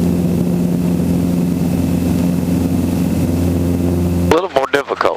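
A helicopter's rotor and engine drone steadily and close up as it settles to land, a continuous low throbbing hum that cuts out near the end, followed by a voice speaking.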